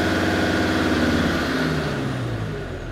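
A Land Rover Defender TD5 diesel engine is held at raised revs, around 2,000 rpm, as a steady close drone that slowly eases down in pitch toward the end.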